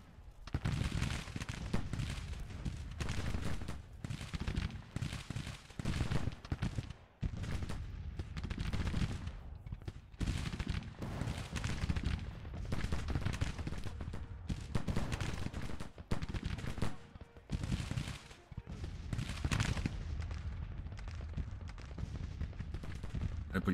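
Musket volleys and booming artillery fire from the Civil War strategy game Grand Tactician crackle and thud in dense, continuous bursts, loud throughout with brief gaps between salvos and occasional voices mixed in.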